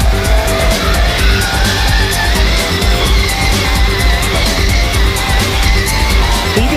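A car accelerates hard on a race track, its engine roaring loud and steady throughout, with tyres squealing and skidding through the turns.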